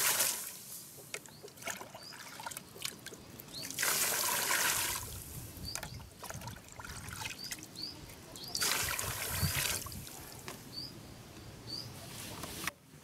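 About three litres of water are poured onto straw mixed with urea for feed treatment, giving two broad splashing gushes a few seconds apart over quieter rustling and trickling.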